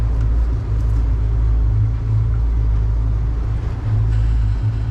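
Twin Yamaha F300 outboard engines idle on a 32-foot Duckworth offshore boat, a steady deep low rumble close by with no break, running alone without talk.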